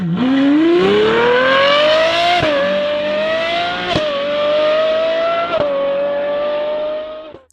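A Ferrari V12 engine revs high and holds, with sharp pitch drops at a few gear changes, the roar sustained throughout before cutting off.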